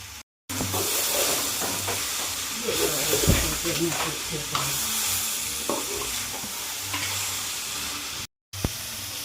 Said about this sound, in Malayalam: നമുക്ക് വെളുത്തുള്ളി ഇഞ്ചി ചതച്ചത് ഇതിലേക്ക് ഇട്ട് കൊടുക്കാം.